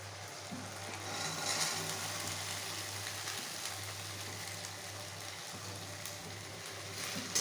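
Green peas tipped into a pan of cooked-down tomato masala, a steady soft sizzle and frying hiss close by, continuous with faint stirring clinks and no talk.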